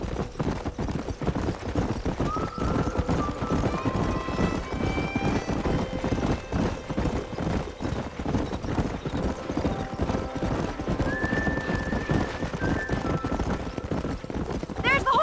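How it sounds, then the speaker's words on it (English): Horses gallop in the video game Red Dead Redemption, with dense rhythmic hoofbeats drumming throughout and several high neighs rising over them, while voices talk over the action. "There's the horses!"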